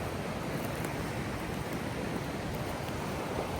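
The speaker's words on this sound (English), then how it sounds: "This is Mono Creek." Mono Creek, a Sierra Nevada mountain stream, rushes steadily nearby as a dense, unbroken wash of flowing water, with no voices heard.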